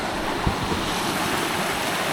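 A strongly flowing stream in a Thai rainforest, surrounded by large trees and split rocks, rushes in a steady, dense wash of water noise that holds constant throughout without any voices.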